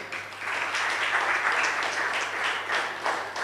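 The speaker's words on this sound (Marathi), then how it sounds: "जोरदार टाळ्या" A hall audience gives a warm, sustained round of applause to welcome a guest, a dense, even wash of clapping from many hands with no voices over it.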